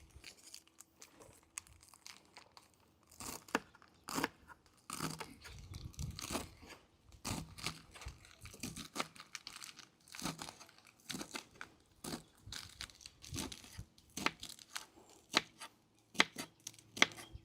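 Knife finely chopping spinach on a board, a brisk run of sharp, close chops with short pauses and a few crisp leafy crunches, no talking.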